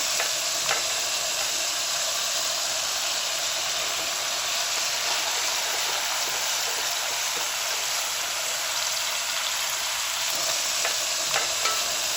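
Turnip and spinach sauté in a hot pan, giving a steady, even sizzle across the whole stretch with a few faint stirring scrapes and no voices.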